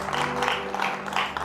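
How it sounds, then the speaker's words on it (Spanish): Women in a church congregation give a brief, fairly faint round of applause, scattered clapping lasting about a second and a half with no talk over it. "Solo las mujeres dieron ese aplauso."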